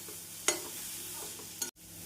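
Grated radish and coconut pieces sauté in a pan for radish chutney, giving a soft steady sizzle with a couple of sharp scraping stirs against the pan.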